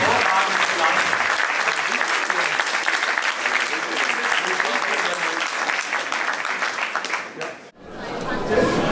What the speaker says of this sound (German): Applaus an die Handwerker, denn die haben sich hervorragend gemacht.